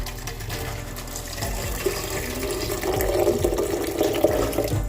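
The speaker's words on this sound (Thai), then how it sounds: "ใส่กระชายไปแล้วนะคะเราก็จะเติมน้ำค่ะ" Clean water pours steadily into a blender jar holding krachai (fingerroot), a continuous splashing fill that grows slightly louder and fuller toward the end.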